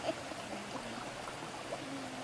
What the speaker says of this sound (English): you've got that babbling brook behind you